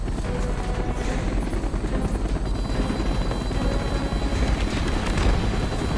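Enemy helicopters in Call of Duty: Black Ops roar close by, loud continuous rotor chop and engine drone with rumbling booms mixed into the din, no voices.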